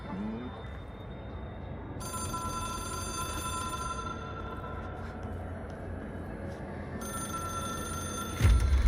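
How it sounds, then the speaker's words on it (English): A telephone rings steadily in the Control video game, a repeating bright bell tone that starts after a quiet moment and continues over a low ambient hum, with a sudden thump near the end. "It is a phone."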